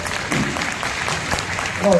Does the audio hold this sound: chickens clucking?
no